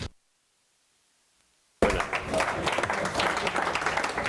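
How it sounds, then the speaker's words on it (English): Audience applause for a speaker at a workforce training grants event, bursting in loudly after nearly two seconds of silence and continuing steadily with crowd noise. "It's always good to get the applause early"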